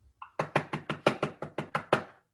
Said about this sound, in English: He frantically knocks on the door